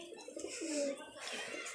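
Pigeons coo softly beside a water pot, one low rolling coo rising in the middle against a quiet background with faint rustling.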